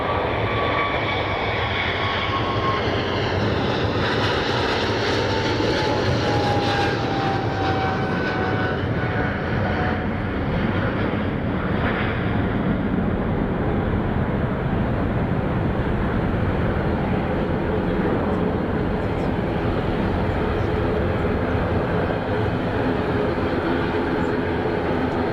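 A Dash 8 turboprop taxis somewhere on the ground at Zurich Kloten airport, a distant, steady engine drone with a faint whine that slowly falls in pitch and persists throughout.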